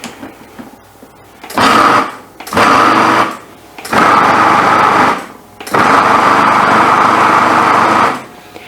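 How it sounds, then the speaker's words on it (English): Blender pulsing an okara burger mixture, with four loud, close bursts of motor whir, each lasting one to three seconds, separated by short pauses. "So I'll just pulse it and see how much blending we really need."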